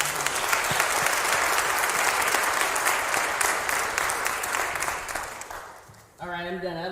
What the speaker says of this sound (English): So we give our members a round of applause.